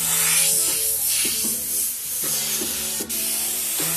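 An airbrush sprays paint onto a T-shirt, giving a steady close hiss that runs throughout beneath a light musical background.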